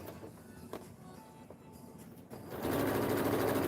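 Sewing machine stitching a jacket dart from the point toward the opening, starting with faint clicks and handling noises before the motor kicks in with a steady, close whirring run.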